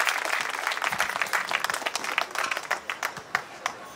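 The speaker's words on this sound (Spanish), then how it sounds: "Un fuerte aplauso para el Señor en esta noche." A church congregation applauds during an evening service, a lively mass of close, crisp hand claps that gradually thins out toward individual claps at the end.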